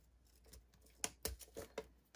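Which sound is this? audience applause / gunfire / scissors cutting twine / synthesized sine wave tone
scissors cutting twine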